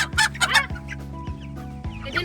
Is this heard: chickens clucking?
yes